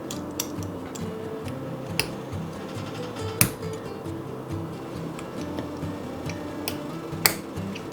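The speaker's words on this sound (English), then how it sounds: "got those clipped into place directly across from each other" Small sharp clicks and ticks of metal clips snapping onto the glass lid of a Weck canning jar, a handful of isolated close taps over a steady low kitchen hum.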